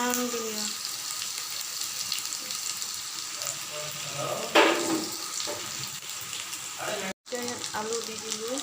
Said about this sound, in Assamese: মাছ ফ্ৰাই হৈ আছে কি মাছ বাহু মাছ